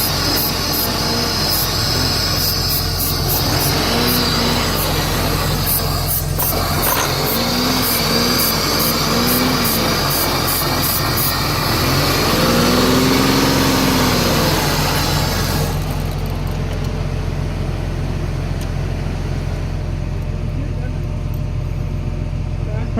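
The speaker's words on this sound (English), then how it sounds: "valve chatter" A 1999 Chrysler Sebring engine idles on a cold start after years of sitting, a steady loud drone with a fast ticking valve chatter running throughout, while a person speaks over it at intervals.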